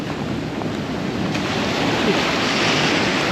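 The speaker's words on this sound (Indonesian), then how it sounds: "Ombaknya besar sekali." Large ocean waves breaking at Tanah Barak beach in Bali, below cliffs, a loud continuous roar of surf with wind buffeting the microphone and no talking.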